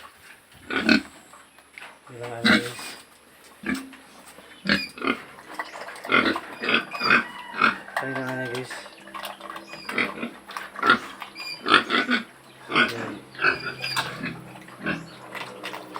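Pigs grunt and squeal repeatedly in pens at a roast-pig (lechon) seller, loud and close, mixed with someone speaking over them.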